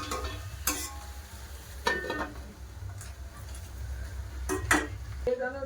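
Potatoes and taro are sautéed in a pan, with a few sharp scrapes and knocks of a spatula against the pan over a quiet, faint sizzle, spaced out across the stretch.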